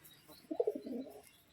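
A single pigeon in a large loft coos one clear, close, rolling call lasting under a second. Faint background noise surrounds it.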